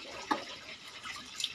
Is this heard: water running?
yes